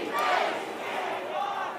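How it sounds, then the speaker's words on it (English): Home crowd at a Toronto Rush ultimate frisbee game chanting a defense chant, a sustained rhythmic massed shout carried from the stands at moderate distance. "Toronto Rush crowd trying to urge their side on with a defense chant"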